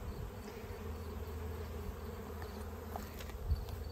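Riled-up honey bees buzz steadily during a hive inspection in October, a dense continuous drone close by with no voices.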